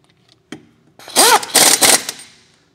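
An impact wrench with a torque stick tightens lug nuts in a star pattern during a tire rotation. After a single clack, the wrench gives two or three loud, close, rattling whirring bursts.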